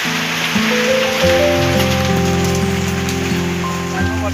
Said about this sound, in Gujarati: વરસાદ ચાલુ હોય